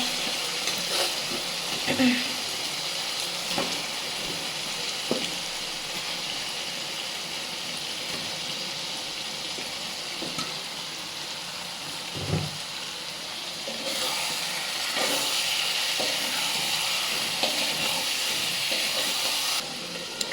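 Chicken pieces go into a pan of well-cooked spice paste and fry with a steady, broadband sizzling hiss that carries on throughout, with small pops and clatters and a brief burst of louder frying partway through.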